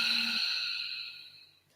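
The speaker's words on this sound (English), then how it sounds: "exhale forcibly as if you were pushing air through a straw" A forceful yoga-style Ujjayi exhale pushed out through the nose, a close, steady breathy hiss that begins strong and fades away over about a second and a half.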